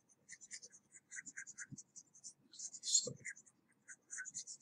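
Marker or pen scratches across a board in short rhythmic strokes, faint and close, with soft taps and quiet background noise.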